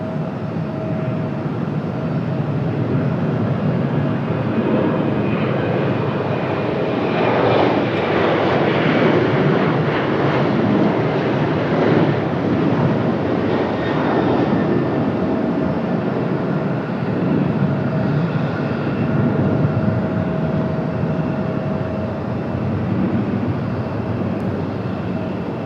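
A United airliner departs Raleigh-Durham airport, a steady broad jet roar that swells louder midway and stays continuous throughout, with no talk.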